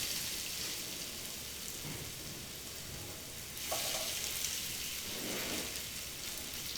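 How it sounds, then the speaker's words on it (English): Steady, dense sizzling and crackling of potatoes for rösti frying in a hot pan of oil, a continuous close hiss with a brief surge partway through. "that sizzling noise, that actually tells you that the pan is just at the right heat"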